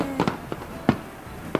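Fireworks bursting over the Kurofune (Black Ship) festival fireworks display in Japan: four sharp, booming explosions at irregular intervals, each with a brief crackling tail, heard from a distance with no voices.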